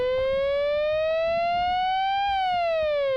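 A Dual Universal Slope Generator gives a bright, harmonically rich synth tone, with its rise and fall times modulated together, that glides slowly up in pitch, then bends back down, with a faint rumble beneath.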